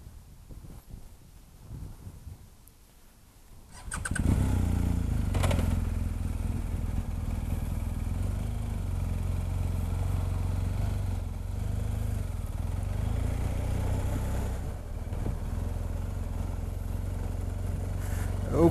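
A BMW R 1250 GSA motorcycle starts moving off, its engine rising from a quiet idle into a loud, steady close drone with wind buffeting the microphone.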